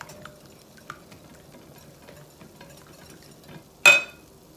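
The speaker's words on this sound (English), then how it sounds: "stir in pepper and hot sauce" Pepper and hot sauce stirred into a keto Big Mac casserole mixture give quiet, soft scraping and light utensil taps, ending in a sharp louder clack near the end.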